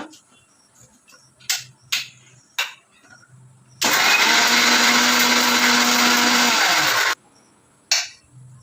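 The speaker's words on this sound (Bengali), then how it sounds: "এটা মিক্সিতে পেস্ট করে নেবো" A kitchen mixer grinder whirs loudly for about three seconds, grinding ginger, garlic and cloves with a little water into a paste, with short knocks and handling sounds before and after.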